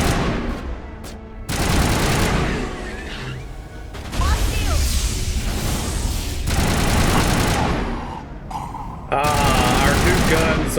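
Weapon fire in Mass Effect 1 combat, with loud sustained bursts of rapid shots broken by short pauses, close and harsh, mixed with crashes and someone talking over it.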